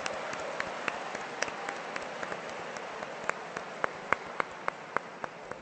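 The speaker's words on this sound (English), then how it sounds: "So give a round of applause to our cyber guests, Megan McCarthy and Amy Keating Rogers." A convention panel audience gives remote guests a round of applause, a soft, distant wash of clapping with a few sharper individual claps popping out near the microphone as it tapers.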